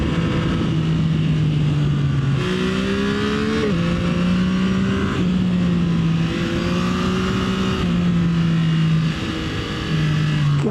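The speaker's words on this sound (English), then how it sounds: "what a fun and flickable motorcycle" A 2024 Yamaha MT-09 SP motorcycle engine revs hard on a ride, loud and close, its pitch rising through each gear and dropping at every shift, with wind rush throughout.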